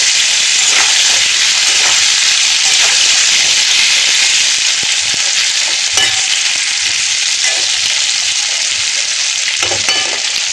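Pans of potatoes and of onion with tomato fry on the stove, making a loud, constant sizzle and hiss with occasional stirring scrapes over the whole stretch. No voices are heard.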